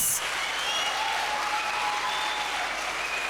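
Steady round of applause from an audience welcoming a speaker, dense continuous clapping throughout without a break.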